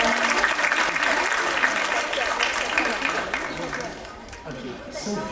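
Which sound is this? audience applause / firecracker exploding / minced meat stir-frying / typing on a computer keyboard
audience applause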